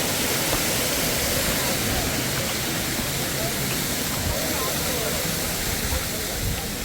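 Waterfall in Chikkamagaluru, a dense, constant roaring rush of falling water that stays steady and fairly loud throughout, with no talking.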